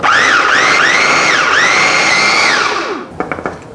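A kitchen blender purees a rice and seasoning mixture for rice donut dough, its loud whining motor rising and falling in pitch for about three seconds before stopping, followed by a few knocks and clatters.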